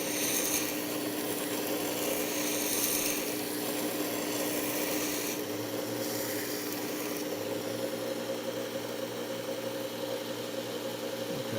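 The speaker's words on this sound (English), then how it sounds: "During this repair, you end up creating kind of sharp edges up here where we've been grinding on the spine." Steady grinding on the spine of a broken knife during a tip repair: a continuous, close rasping abrasion with slight shifts in pitch and pressure, no talking.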